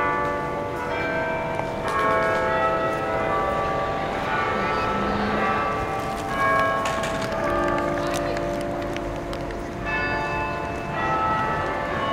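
York Minster's carillon of 35 bells plays an evening melody, a sustained run of ringing tones with overlapping decays heard outdoors at moderate distance, steady and fairly loud throughout.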